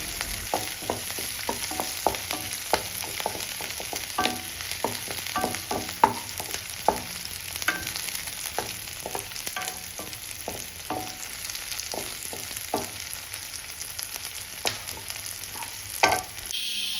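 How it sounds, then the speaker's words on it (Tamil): Onions sautéing over a low-to-medium flame for Chettinad chicken masala, with cumin going in: a steady close sizzle with a spoon scraping and stirring the pan in frequent irregular knocks throughout. "கொஞ்சம் லோ ஃப்ளேம்லேயே வந்து லோ டு மீடியம் ஃப்ளேமில் வந்துட்டு கொஞ்சம் நல்லா அந்த ஒரு ப்ரௌனிஷ் ஃப்ளேவர் வர வரைக்கும் கொஞ்சம் நல்லா வந்துட்டு வதக்கிக்கோங்க."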